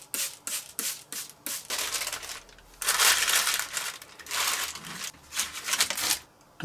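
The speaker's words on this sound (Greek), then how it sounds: "Το ελιόψωμο θα το ψεκάσω με λίγο νερό." A spray bottle mists water onto olive bread dough in a quick run of short hissing squirts, followed by longer bursts and rustling handling noises, close by and with no talking.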